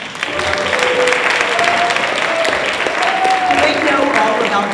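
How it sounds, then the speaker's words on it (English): Loud, sustained audience applause at an event in Memphis, a dense wash of clapping with voices faintly mixed in throughout. "would you join me in a round of applause"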